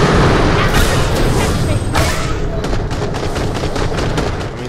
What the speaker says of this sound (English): Yeah, those grenades do some work. I'm going to throw a couple more for fun.